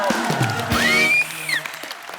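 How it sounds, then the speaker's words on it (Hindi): Studio audience applause on a Hindi comedy talk show, a short burst of clapping mixed with a bright rising-and-falling whistle-like sweep, fading to quieter clapping by the end. "उर्वशी की मम्मी जी के लिए और जोरदार तालियां।"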